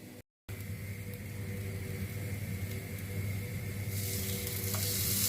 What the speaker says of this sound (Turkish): Böyle böyle ısıttığım yanmaz tavaya koyuyorum.